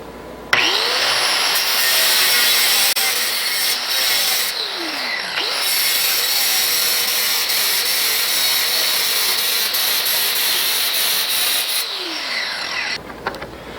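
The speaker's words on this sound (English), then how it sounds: "the first thing we're going to be doing is cutting the weld wire. So we're going to be using a cutoff wheel" A cutoff wheel slices through weld wire on a Bullseye cart build, a loud continuous high whine lasting over ten seconds, with brief dips where the cut bites or eases.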